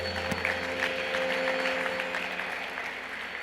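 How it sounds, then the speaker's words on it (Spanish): A church congregation gives a strong round of applause during an evening worship service, steady clapping at moderate volume with a faint sustained tone beneath it. "Dale ese fuerte aplauso al Señor."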